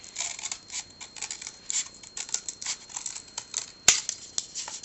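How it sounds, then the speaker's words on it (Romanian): Scissors snipping glitter paper to make a gingerbread house roof, a quick run of close, crisp cuts in an irregular rhythm, quiet and with no talk. "și voi decupa această parte. Vom face acoperișul căsuței."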